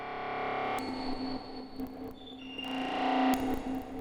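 A synthesized, distorted tone from an Elektron Octatrack with a comb filter swells and shifts with a long, washy reverb tail that smears each change into a lingering echoing haze.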